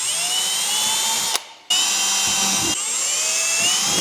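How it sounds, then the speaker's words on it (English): A power drill bores into the carbon fiber diffuser area of a car during a full carbon kit install, a steady high whine running close and loud, briefly stopping and restarting, with faint mechanical clicks. "We gotta drill it anyway."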